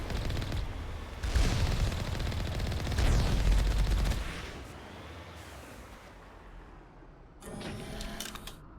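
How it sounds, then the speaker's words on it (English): Rapid bursts of gunfire in the Mass Effect video game, loud and sustained for the first few seconds, then a quieter mechanical hum and a short crackling burst near the end, with no talking. "Why are you guys shooting?"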